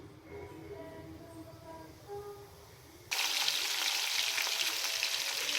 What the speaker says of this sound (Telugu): ఆయిల్ హీట్ అయిందండి ఇప్పుడైతే జీలకర్ర ఆవాలు వేసుకుందాము